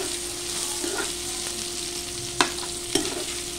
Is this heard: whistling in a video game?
no